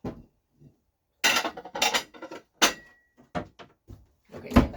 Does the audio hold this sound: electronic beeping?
no